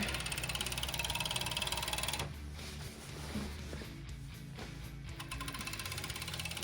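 A sewing machine stitches fabric for a tailored bed skirt, running in fast even bursts near and clear, stopping for about three seconds of quieter handling in the middle before starting again.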